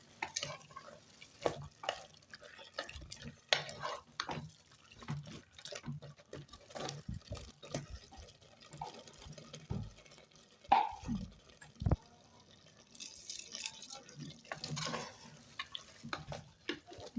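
A spoon scrapes and clinks in a pot as a thick masala for mutton gravy is stirred, with wet squelches and taps in an irregular rhythm, close up.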